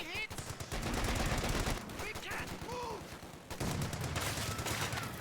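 An MG42 machine gun fires in a video game, giving dense rapid bursts of automatic gunfire mixed with other battle noise and steady and loud throughout. Voices speak over the shooting.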